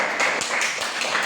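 Classroom of pupils clapping together in a Catholic religious education lesson, a steady run of quick, fairly loud claps over about a second with no talking.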